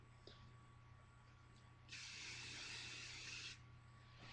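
A short, steady aerosol hiss of hairspray lasts about a second and a half, standing out clearly from a quiet, humming room.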